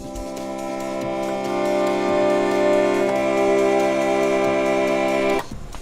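A 1979 Fairlight CMI digital sampler synthesizer plays a rich, sustained chord with bright ringing overtones, swelling slightly and holding for about five seconds before it stops abruptly.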